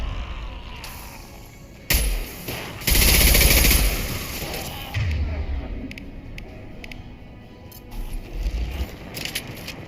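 A Concussive Shot power fires in Mass Effect 2, with bursts of loud gunfire and sharp impact blasts around a mechanical, rattling background, a heavy blast standing out in the middle.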